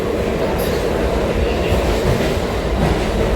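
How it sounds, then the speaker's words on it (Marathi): A commuter train arriving at a Mumbai station rumbles along with a steady roar and faint clattering wheels, loud and continuous throughout, no talking heard. "आता मी स्टेशनवरती आलो आहे आणि आता थोड्या वेळात ट्रेन आणणार आहे"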